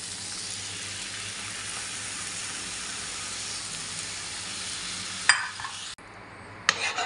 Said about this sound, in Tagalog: ilagay na nga po natin yung ating sauce mixture